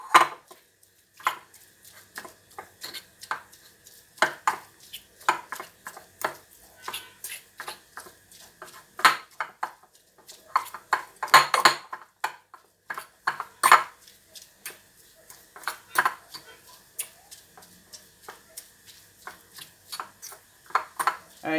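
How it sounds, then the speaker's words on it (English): A fork repeatedly mashing and flaking cooked fish in a dish, heard as close, sharp metallic clicks and scrapes in an irregular rhythm. "I'm going to mash out the fish with a fork"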